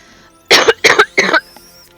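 Three sharp, loud coughs in quick succession, close up, followed by quiet and a faint breath.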